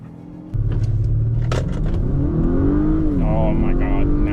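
2024 Acura RDX, Lincoln Corsair or Mazda CX-5 SUV launching hard in a drag race, engine note rising steadily from a sudden start and climbing through the revs, heard close.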